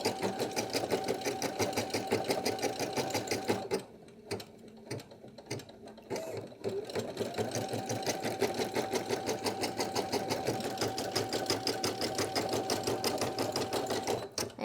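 A Brother PE800 embroidery machine stitches out a design, its rapid, even clatter of needle strokes running close and steady, broken by a short pause of scattered clicks before the rhythmic stitching resumes.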